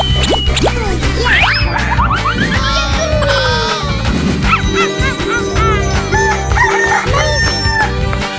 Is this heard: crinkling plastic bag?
no